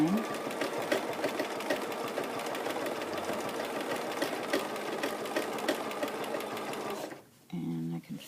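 A sewing machine runs steadily for about seven seconds, stitching a slow meandering line in bobbin stitching, with a constant mechanical whir and needle chatter. It stops abruptly, leaving a brief quieter moment.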